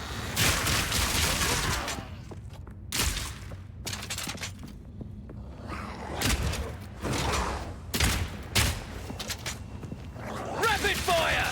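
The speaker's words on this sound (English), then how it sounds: "Rapid fire!" Rapid gunfire in an action video game during act 2, sharp bursts of shots in repeated clusters separated by brief quieter gaps, with busy game sound effects throughout.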